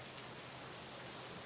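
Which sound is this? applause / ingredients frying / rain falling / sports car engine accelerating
rain falling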